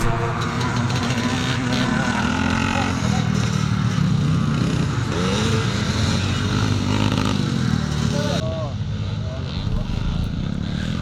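4-stroke motocross motorcycles racing at a classic Grand National event: a continuous loud engine drone with revving, rising and falling pitch as bikes pass, under steady commentator talk.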